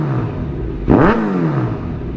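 A Kawasaki Z motorcycle fitted with a Scorpion exhaust gives one sharp rev that climbs and falls back over a steady idle rumble. It is close and loud, with no talk.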